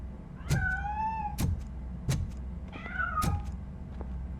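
A cat meows in the video game Robocop Rogue City, several rising and falling calls spaced a second or so apart, fairly clear over quiet background thumps, with no talking.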